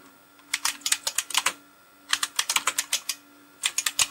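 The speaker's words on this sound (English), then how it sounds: "that's the sound of a Model F" Typing on an IBM Model F keyboard: three bursts of rapid, crisp, loud key clicks with short pauses between them, close by with no talk.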